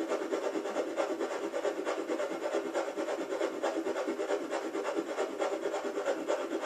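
Synthesizer whoosh, a breathy noise with LFO amplitude modulation layered on an oscillator's rhythm, giving a steady, rapid pulsing texture that stays faint and even throughout, with no voice.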